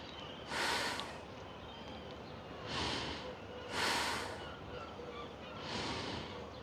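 Four slow, deep breaths during an outdoor sunrise yoga session, each a soft breathy swell with long pauses between, heard close and quiet.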